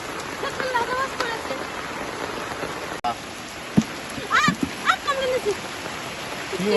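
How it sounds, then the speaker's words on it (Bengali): Heavy rain falls during a fishing trip, spreading a steady broadband wash of drops throughout, with some chirping birds and a few brief human sounds mixed in. "বৃষ্টি হচ্ছে কি দেখো তুমি"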